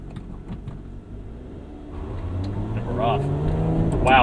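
A modified 2024 Lotus Emira in track mode pulls away from inside the cabin, its engine note building steadily louder with rising revs as a voice talks over it.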